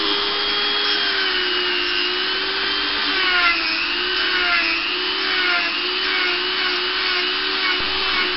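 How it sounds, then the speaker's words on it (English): A Dremel fitted with a small rotary sander shapes the fork of an ash wood slingshot, giving a loud, steady high-pitched whine that holds throughout, with slight pitch wavering as the tool bears on the wood. "What I use to bring mine into shape is the Dremel with a little rotary sander in."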